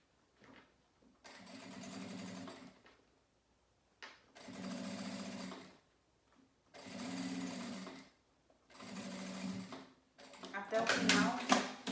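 Sewing machine running in four long bursts with short pauses between, stitching the closing seam along the edge of a fabric toiletry bag, then a quick back-tack at the end; close and steady.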